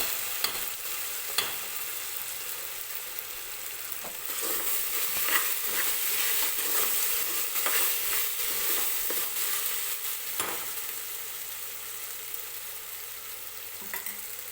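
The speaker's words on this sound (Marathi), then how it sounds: "कांदा टोमॅटो आणि आलं लसणाची पेस्ट वगैरे जी आहे ते तेलामध्ये परतून घ्यायची आहे" Onion, tomato and ginger-garlic paste frying in oil for a pressure-cooker mutton biryani, a steady close sizzle with occasional stirring scrapes and clicks throughout, no talking.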